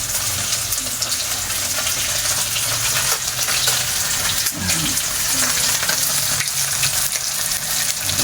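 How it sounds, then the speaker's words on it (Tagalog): Fish frying in a pan for a Filipino home meal, with a steady dense crackle and hiss filling the whole stretch, close and fairly loud, plus a brief clatter midway. "Piniprito po natin itong isda."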